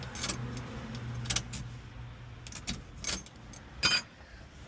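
Keys jangling in several short bursts while an El Camino is pieced back together, close and crisp over a low steady hum.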